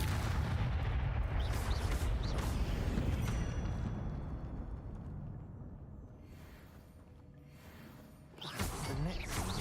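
In Hogwarts Legacy an Incendio fire spell bursts with a loud, rumbling whoosh of flame that fades over several seconds, followed by a fresh flare near the end.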